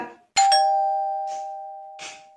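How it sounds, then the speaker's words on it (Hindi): A doorbell gives one bright electronic chime that rings on and slowly fades, with a few soft rustling sounds afterward. "ये घंटी भी ना"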